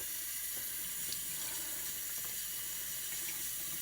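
A kitchen tap runs steadily while water fills glass sprouting jars for salad sprouts, giving a constant close hiss and splash with no pauses.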